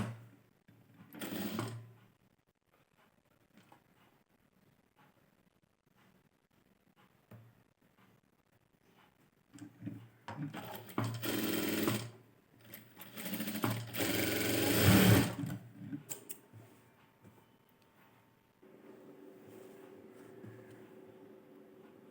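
Sewing machine stitching a blouse with a quarter-inch seam, running in several separate bursts of rapid whirring with quiet pauses between them, close and moderately loud.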